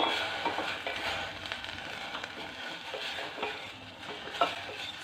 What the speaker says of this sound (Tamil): ஸ்டவ்வை லோ ஃப்ளேமில் வச்சுட்டு நல்லா வதக்கி விட்டுறலாம்.